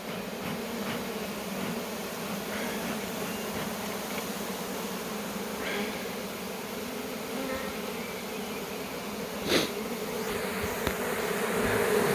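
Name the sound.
honeybee swarm buzzing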